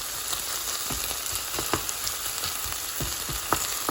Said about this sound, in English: let it all cook together for a few more minutes until the onions are a little bit brown